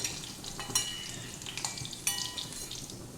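Eggplant frying in hot oil in a pan after potatoes, a steady close sizzle with a few brief crackling bursts and light scrapes.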